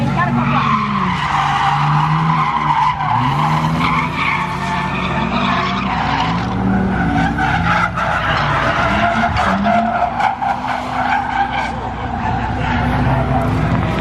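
Cars drifting counterclockwise around a reverse-configured track at a drift practice, tires skidding and squealing continuously under loud roaring engines, with voices talking over the noise throughout.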